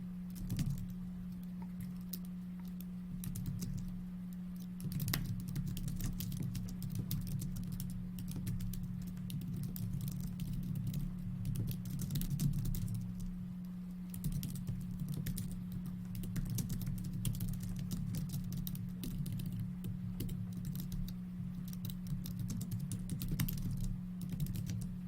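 Steady, rapid typing on a computer keyboard, continuous pattering keystrokes close up over a constant low electrical hum, with no voices.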